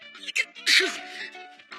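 A single sharp, explosive sneeze bursts out close by, framed by brief murmured vocal sounds before and after.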